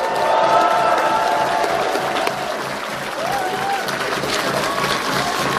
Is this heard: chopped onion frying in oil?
no